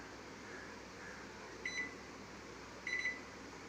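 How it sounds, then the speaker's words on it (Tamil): Microwave oven running while cooking malai chicken: a faint, steady electric hum throughout, with two short clusters of high electronic beeps near the end. "நான் திரும்பவும் மைக்ரோனில் வச்சுட்டேன்."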